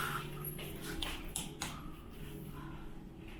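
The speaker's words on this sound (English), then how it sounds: "And there's the dog." Faint dog sounds, a few soft whimpers and yips, carry through a quiet hotel penthouse suite with a steady hum of room noise behind them.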